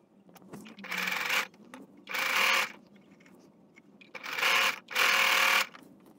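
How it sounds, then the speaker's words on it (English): A sewing machine stitches a designer face mask in four bursts of steady whirring, each lasting about half a second to a second, with quiet pauses and faint handling noise between them. "We're just gonna sew on top of this and then we'll be back"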